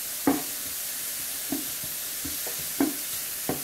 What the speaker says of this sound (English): we're just going to get our pancetta in here and get it cooking